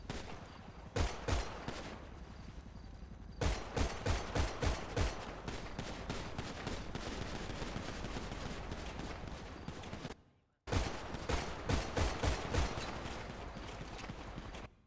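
Gunfire in a GTA roleplay session comes as three separate volleys of rapid shots, spaced apart over a steady roaring background, fairly distant and moderate in level, with no voices.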